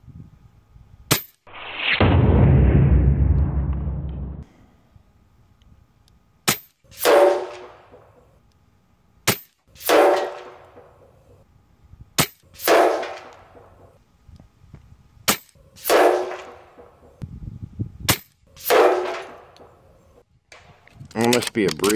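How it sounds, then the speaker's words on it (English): Shots from a Brocock Commander Magnum HP air rifle, about eight sharp, loud cracks spaced a few seconds apart, each ending in a short ringing decay, with someone talking in between. "Let's see if I can put 3 more shots through that red."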